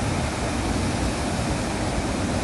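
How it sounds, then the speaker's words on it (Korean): Roaring stream water rushes through a karst valley at Gumunso pond in Taebaek, a steady, dense, loud wash of noise that never lets up, with no voices over it. "계곡의 물소리 한번 같이 감상해 보실까요?"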